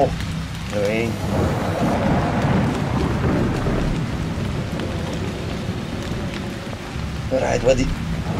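Steady rain with low thunder rumbling through a horror video game scene, a dense continuous wash under occasional speech from players.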